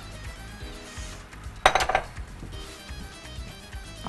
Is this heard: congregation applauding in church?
no